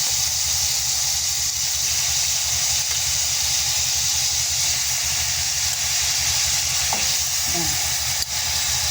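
Chicken adobo frying in a pan, a steady close sizzle and crackle of hot oil running continuously, with a few faint clinks of utensils near the end.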